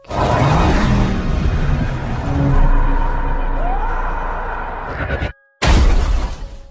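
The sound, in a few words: ambulance crashing and overturning in a film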